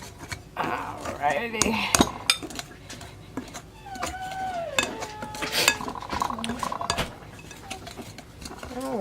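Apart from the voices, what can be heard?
mixing butter into scone dough until crumbly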